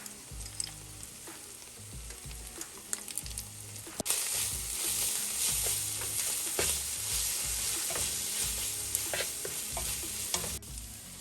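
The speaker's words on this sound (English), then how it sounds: "And saute it well." Chicken tikka masala gravy with garam masala is sautéed in a pan, a bright continuous sizzle under brisk, repeated scraping and clattering stirs. The sizzle swells sharply partway through, and no voices are heard.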